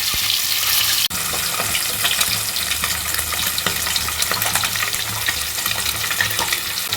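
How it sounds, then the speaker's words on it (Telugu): Pieces of fish fry in hot oil for a fish curry, giving a loud, continuous crackling sizzle close up with no talk. A brief clatter sounds early on. "ఈ చేప ముక్కలంటే నేను ముందుగా ఫ్రై చేసుకుంటున్నాను"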